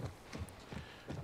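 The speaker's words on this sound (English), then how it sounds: "Let's go back and get my horse." Horse hooves clip-clop in a steady walking rhythm in The Last of Us Part 1, quiet and fairly close, with no voices over them.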